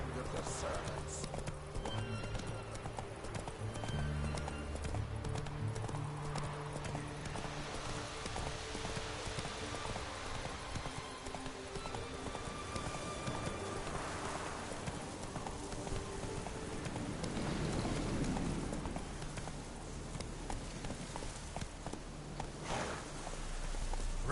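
The horse Roach gallops in The Witcher 3, its hooves clip-clopping in a steady rhythm throughout, with a brief whinny and a rain-like hiss behind. Game voices talk over the hoofbeats.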